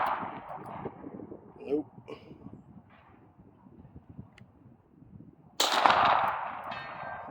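A Canik METE SFX pistol fires a single loud, sharp shot at a target 200 yards away, arriving after a stretch of quiet talk and light outdoor noise.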